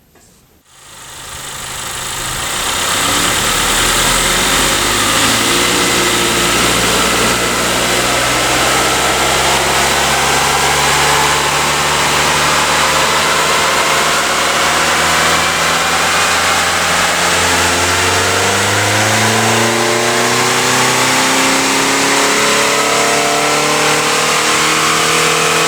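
A stock 2015 Honda Accord engine runs on a dyno at wide open throttle, climbing from a low start into a loud, sustained rising roar that builds steadily in pitch over about twenty seconds.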